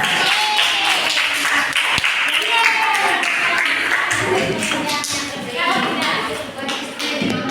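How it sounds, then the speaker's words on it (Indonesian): Children clapping together in a classroom, a dense, continuous patter of many hands lasting several seconds, loud and close, with voices mixed in underneath. "Bagus sekali kan tepuk tangan"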